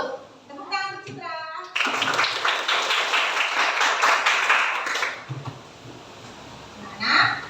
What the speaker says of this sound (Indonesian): Tepuk tangan untuk Citra.